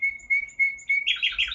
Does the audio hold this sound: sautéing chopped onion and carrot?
no